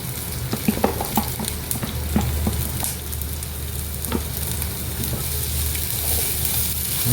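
Chopped large onion sautés in a pan for a Kerala prawn roast, giving a continuous close sizzle with frequent stirring scrapes and spatula knocks, plus a low hum underneath.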